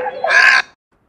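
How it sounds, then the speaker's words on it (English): A great blue heron gives a single harsh, croaking squawk, loud and close, lasting just over half a second before falling silent. "Great blue heron."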